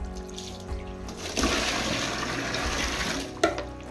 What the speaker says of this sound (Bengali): দেখছে কিভাবে জলটা ভরে রাখছে